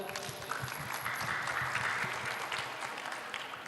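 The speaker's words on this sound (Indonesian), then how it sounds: "beri tepuk tangan dulu buat" A talk-show audience applauds for a speaker, a steady wash of clapping at moderate volume that holds through the whole stretch, slightly distant and without talk.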